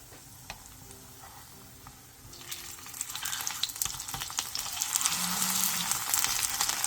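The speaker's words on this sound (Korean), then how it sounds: "그 위에 삶은 꼬막을 올려준 뒤 앞뒤로 노릇노릇하게 중약불에서 붙여주세요" Small cockle pancakes of thin batter topped with boiled cockles fry in oil in a pan over medium-low heat, a soft hiss that swells into steady, louder crackling sizzle, close and without talk.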